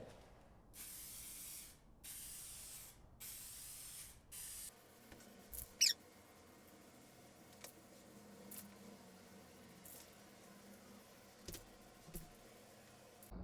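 Rattle can spray paint applied in bursts to a car part: several loud, close hissing sprays with short gaps, then quieter handling and faint clicks afterward.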